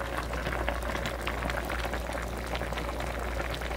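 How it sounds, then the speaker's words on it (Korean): Kimchi stew boils in a wide metal mixing-bowl pot, a steady close-up bubbling and popping that runs continuously throughout with no voices. "김치찌개가 보글보글 끓고 있습니다."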